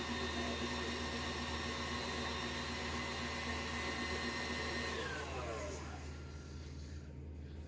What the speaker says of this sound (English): Either stop the mixer first or do that on a slow speed to mix it together and combine.